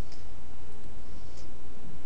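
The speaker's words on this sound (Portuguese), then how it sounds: "Agora eu estou usando a tecla menos do teclado." Minus key pressed on a computer keyboard, giving two light, brief clicks about a second apart over a steady background hiss.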